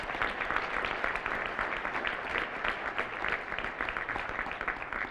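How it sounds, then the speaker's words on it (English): Sustained, lively applause from an audience at a morning breakfast event, many hands clapping steadily and evenly at full strength without a break. "Let's give them another big round of applause."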